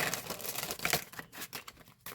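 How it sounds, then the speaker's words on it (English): A deck of tarot cards is shuffled by hand nearby, a quick run of soft riffling and slapping bursts with short pauses between them, faint and without talk. "That was a nice shuffle."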